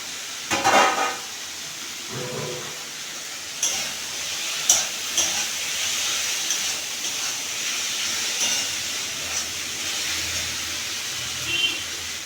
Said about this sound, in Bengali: মশলা দিয়ে কষানো হয়ে গেছে